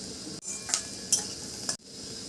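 Fennel seeds, dried red chilli, chopped onion and dried curry leaves frying in hot oil, a steady broad sizzle with a few sharp stirring scrapes, briefly cut by short silent breaks.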